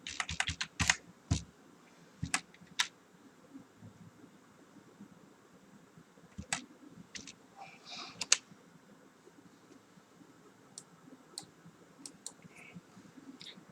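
Someone types on a computer keyboard while filling in an online form: quiet, irregular clusters of key clicks with long pauses between them, close to the mic over a faint background hiss.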